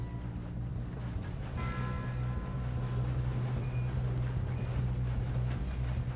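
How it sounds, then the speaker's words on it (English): A train runs steadily in Red Dead Redemption 2, with a constant deep rumble and clattering wheel noise throughout and faint squeals near the rails. "We have to stop this train."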